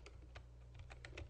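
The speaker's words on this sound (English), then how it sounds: "I'm just going to type in some basic information here." Quick bursts of keystrokes on a computer keyboard, a short run of separate clicks in uneven rhythm, close and fairly quiet over a low hum.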